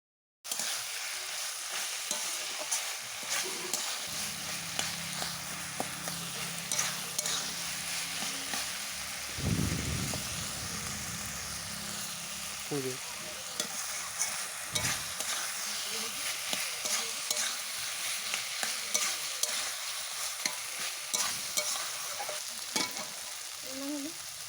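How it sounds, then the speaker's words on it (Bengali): Fried gima greens are stirred together with potato and eggplant in a pan, a steady sizzle running throughout under repeated scraping strokes of a spatula, with one louder thump midway. "গিমে শাক দেওয়ার পর ভালোভাবে আমি গিমে শাক আলু বেগুনের সাথে মিশিয়ে নেব।"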